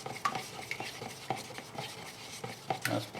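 A batch of repair compound for a Ford 3000 tractor hood is stirred in a container, producing irregular scraping and clicking strokes at close range.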